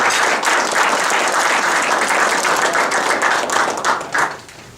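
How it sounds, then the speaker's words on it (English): An audience at a Chicago business breakfast applauds in a steady, dense wash of clapping that fades out near the end, with no talk over it. "So let's give everybody a round of applause."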